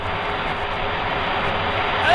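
Propeller airplane engine droning in a French radio drama about Dan Cooper, a steady close mechanical hum that swells slightly at the end, with a voice talking over it.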